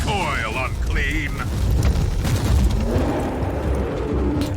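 Grenade blasts and rumbling booms in the action game Warhammer 40,000: Inquisitor - Martyr, heavy low explosions with debris crackle following, mixed with game effects and someone talking over the top.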